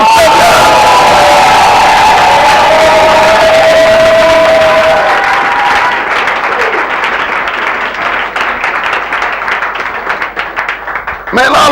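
A church congregation at a summer conference cheers and acclaims, loud clapping and shouting whoops that swell together and then gradually thin out into scattered applause.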